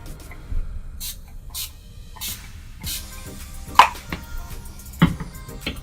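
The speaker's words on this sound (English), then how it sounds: "the setting spray is really good." Several quick hissing bursts of makeup setting spray (Urban Decay All Nighter) come in short puffs, close by and fairly loud, mixed with light handling taps.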